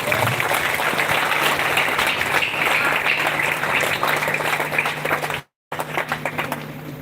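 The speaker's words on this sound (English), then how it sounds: "A great round of applause, please." Sustained applause from an audience at an Independence Day celebration, dense steady clapping filling the space for several seconds, with a brief dropout near the end before the clapping resumes.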